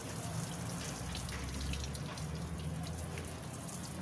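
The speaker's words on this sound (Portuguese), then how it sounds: "E também tá derramando muito por ali, pela torneira." Water pours steadily from a tap, spilling over, in a continuous close hiss that stays loud throughout, with faint speech in the background.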